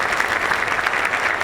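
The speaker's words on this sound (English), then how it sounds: "Please, give them a round of applause." An audience applauds steadily throughout a talk on diversity, a dense continuous wash of many hands clapping at even loudness with no voices over it.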